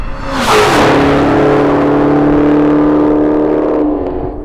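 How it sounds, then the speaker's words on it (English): A supercharged Ford GT350 in a street race against a Hellcat Charger screams past at speed, its loud engine note rising in as it approaches, holding high and then fading as it pulls away, with no talk. "God dang, that car looks good speeding that fast"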